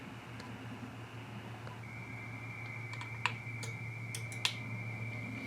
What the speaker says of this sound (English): you can hear the relay click when you hit the tuner button there